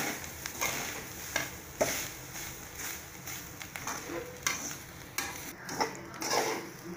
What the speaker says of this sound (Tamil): இந்த அளவுக்கு நம்மளுக்கு நல்லா தேங்காய் வறுக்கணும்.